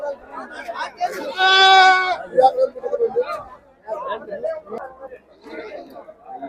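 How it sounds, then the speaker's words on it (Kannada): Goats at the Chitradurga sheep market: one loud, drawn-out bleat rises over busy close chatter of men bargaining, with other market voices around. "ಹೆಣ್ಮರಿ ಅಣ್ಣ ಹೆಣ್ಮರಿ ಮೇಕೆ ನೋಡ್ರಿ"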